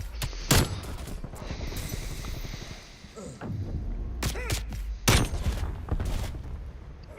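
Shotgun blasts in Call of Duty Cold War multiplayer, several loud sharp shots spread irregularly through a busy game mix, with rumbling hum and other battle noise beneath.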